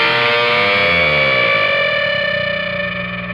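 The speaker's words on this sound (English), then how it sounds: "holding this bend with your fretting hand and coming back behind the neck and pulling those strings even further" Distorted electric guitar super bend, with the strings pulled even further behind the neck: one loud, sustained note whose pitch slowly rises while clashing overtones ring and gradually decay, with no talking.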